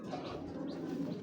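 Pigeons cooing at a pigeon farm, a soft, brief murmur of low coos heard quietly at a distance.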